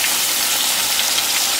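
Potatoes with onions and peppers fry in a pan with a steady, loud, hissing sizzle that holds evenly throughout, with no talking.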